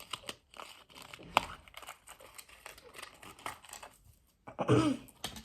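Plastic packaging with a seashell-themed item inside crinkles and rustles up close in irregular bursts, ending with a louder crumpling tear as the wrapper is pulled open.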